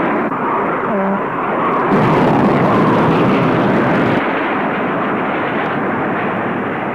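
An F-4 Phantom II's cannon fires a sustained roaring burst of about two seconds in flight, cutting over the steady drone of the jet's engines.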